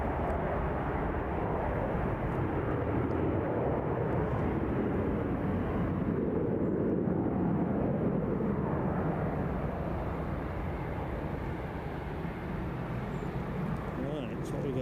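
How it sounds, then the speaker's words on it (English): An easyJet airliner departs Edinburgh Airport out over the Firth of Forth, giving off a faint, steady far-off roar that stays level throughout without a clear peak. "The easyJet launching on out."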